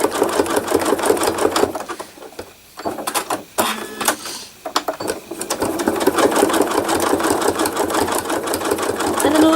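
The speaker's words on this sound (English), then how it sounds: "It's really free motion embroidery when you think about it." A sewing machine stitches free-motion embroidery for thread art, a loud, fast, rhythmic mechanical chatter that stops and starts, with brief pauses around the middle before running steadily again.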